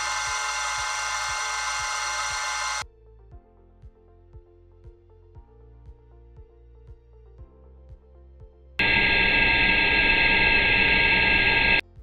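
Engine noise passing through an unoptimized muffler in an acoustic filter demonstration, with a steady, repeating mechanical pulse at a moderate level between two loud bursts of broadband noise at the start and end.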